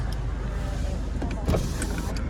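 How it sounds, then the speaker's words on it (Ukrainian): An electric power window on a SEAT car whirs as the glass moves, a short steady motor hum with a brief bump near the end, fairly quiet and close. "Лівий скло підіймач."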